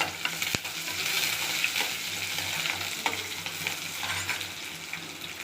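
Oil sizzles and crackles steadily in a pan as mustard seeds, urad dal and chopped shallots fry, with occasional stirring scrapes close by.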